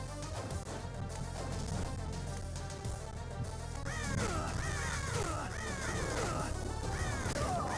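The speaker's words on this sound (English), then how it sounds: "Damn birds." Crows caw in the video game Castlevania Portrait of Ruin, repeated harsh bird calls over dense game music and effects, growing busier in the second half.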